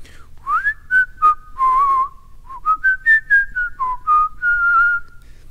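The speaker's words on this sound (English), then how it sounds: "I'm going to whistle a little bit." Someone whistles a short wandering melody of sustained notes, each trailing off into a noticeable room echo.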